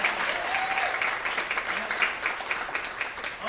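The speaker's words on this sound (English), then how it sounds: "So let's give a big round of applause for Jared." Sustained applause from an audience at a teacher-of-the-year breakfast event honoring educators, dense steady clapping filling the room for several seconds, with faint murmurs of voices underneath.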